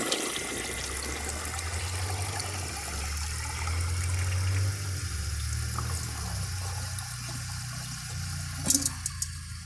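A toilet with mineral buildup is flushed with the handle held down: a loud rush of water swirls for several seconds, then fades to a trickle and refill, ending with a few sharp clicks nearby.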